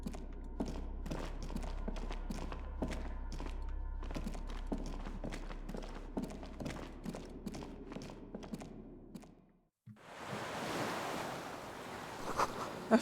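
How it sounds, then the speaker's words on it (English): Rushing water far below in the Disco Elysium video game, a broad surf-like roar under a steady run of faint clicks, breaking off into brief silence before a louder, hissing surge returns. "Water rushes below, far down below."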